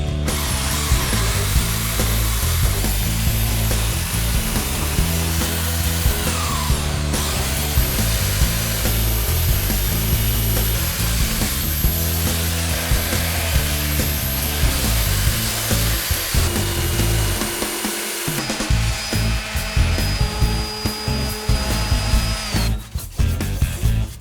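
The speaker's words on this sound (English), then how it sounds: "So I might sand it and make it a bit of a wonky, waney edge top." A power sander works the edge of a wooden waney-edge top for a rustic coffee table, with a loud, steady grinding rasp running the whole time and no talking.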